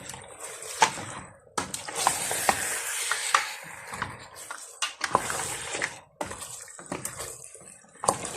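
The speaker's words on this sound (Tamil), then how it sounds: "இப்போ நான் மட்டனை கழுவி வச்சுருக்கிறேன், அதை போட போகிறேன்." Mutton pieces hitting hot oil in a pan for a Sri Lankan-style curry, with a steady sizzle, sharp scraping and clattering stirs, and a few spoon knocks against the pot, close and fairly loud.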